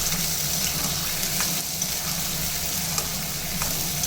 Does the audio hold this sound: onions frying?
yes